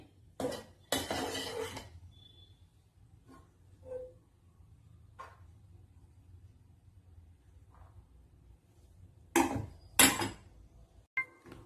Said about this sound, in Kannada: ಸೊ ಇದನ್ನು ಪ್ಲೇಟ್ಗೆ ಹಾಕಿ ನಾನು 2 ಬದನೆಕಾಯಿ ಹಾಕ್ಕೊಳ್ತೀನಿ.